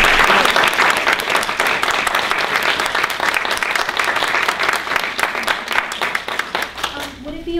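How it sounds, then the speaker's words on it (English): A book tour reading audience breaks into sustained applause, a loud, continuous patter of many hands that keeps going before thinning out near the end. "let's give everybody a round of applause,"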